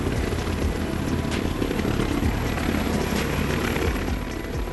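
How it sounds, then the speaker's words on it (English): A medevac ambulance helicopter used for emergency medical transport flies overhead, its rotor and engine drone steady and fairly loud throughout, with no voices. "Also known as a medevac helicopter, it is used for emergency medical services to transport critically ill or injured patients to hospitals."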